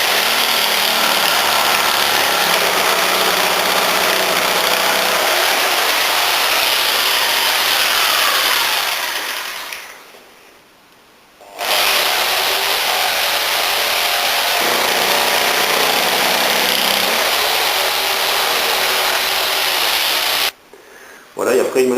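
A power tool saws a pointed tip, about 20 cm long, into a wooden post. It makes a loud, steady, close grinding buzz that cuts out briefly twice, and no voice is heard.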